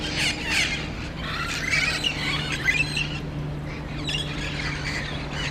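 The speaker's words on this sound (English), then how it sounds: "Look at these green parrots." A flock of wild green parrots squawks in the city of El Cajon, California, with overlapping shrill calls in bursts over a steady low hum.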